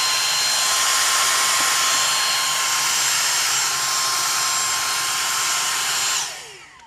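A Dyson DC59 cordless handheld vacuum fitted with its dusting tool runs as a loud, steady high-pitched motor whine with no talk, then cuts off and spins down near the end.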